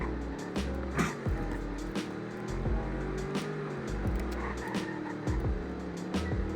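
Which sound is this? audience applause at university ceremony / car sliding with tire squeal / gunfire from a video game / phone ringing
car sliding with tire squeal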